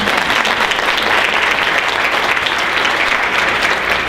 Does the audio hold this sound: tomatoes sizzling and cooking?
no